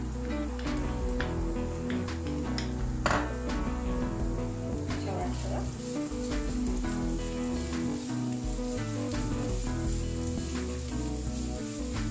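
Garlic frying in hot oil for a prawn curry, giving a steady, dense sizzle that holds level throughout with a few small pops and clinks on top.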